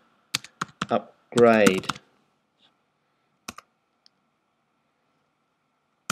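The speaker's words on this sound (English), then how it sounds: "I type in sudo apt-get" A few sparse keystrokes clack on a computer keyboard while a sudo apt-get command is typed into a terminal session over SSH on a Mac, with a short spoken word between the taps.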